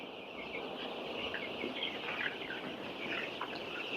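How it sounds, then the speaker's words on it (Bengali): Young chickens in a poultry shed make faint clucks and chirps, buried in a steady, dense hum of background noise that runs the whole time. "তো আমাদের সামনে ওইখানে মুরগ আছে"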